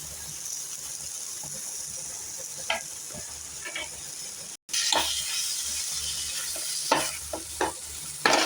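Potato masala for dosa, mashed boiled potatoes mixed in, sizzles and hisses steadily in a hot pan, with the scrape and clatter of stirring coming in irregular strokes.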